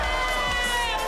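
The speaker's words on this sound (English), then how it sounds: "Getting a round of applause from Adam Silver." Applause and crowd noise fill a large arena at the 2020 NBA Draft as the Knicks' eighth pick is announced, a steady dense wash with a sustained crowd roar, heard only briefly.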